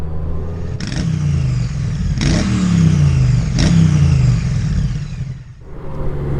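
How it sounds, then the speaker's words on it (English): A Honda Goldwing motorcycle engine hums steadily while riding, loud and close, with three brief surges of revving as the gears shift, then easing off near the end. "riding the mighty Goldwing for the first time for a while"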